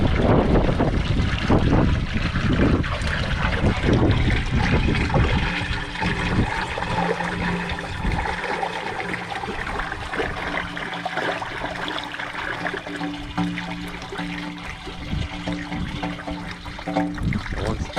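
Silty water rushes and gushes steadily and loudly out of an open valve, a turbulent, churning flow that continues without pause and gradually settles slightly.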